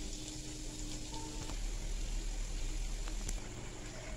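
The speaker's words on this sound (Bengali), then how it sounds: "আমি দুটো করে রোলই ভাজবো এক একবারে" Egg spring rolls frying two at a time in oil in a pan over a low flame, giving a steady close sizzle with soft crackles and no talk.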